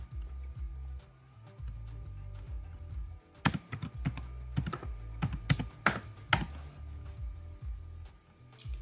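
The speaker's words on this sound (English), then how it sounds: "So I'm gonna type the password for the encryption." Password being typed on a computer keyboard while encrypting files in Kali Linux: a burst of close, crisp keystrokes clustered mid-clip over a low background hum, with no talking.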